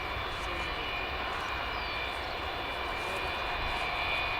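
Steady, loud engine roar of an Antonov An-225 Mriya, the six-engined heavy cargo aircraft, held as a continuous broadband drone with a faint high whine throughout and no speech.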